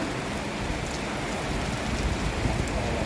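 Steady heavy rain pours down, a dense continuous hiss with no voices, loud and close throughout.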